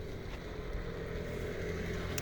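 A Belarus MTZ-80 tractor's diesel engine running steadily at idle, a continuous low droning rumble with no voices.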